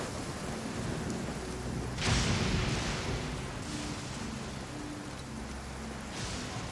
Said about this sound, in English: it's always raining here and thunderstorm is always here